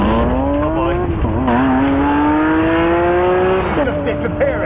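An electric car surges forward with a rising whine as it accelerates hard, the pitch climbing smoothly, then dipping and rising again.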